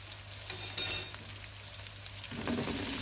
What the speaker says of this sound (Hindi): 1 से 2 मिनट तक हमने इसको भून लेना है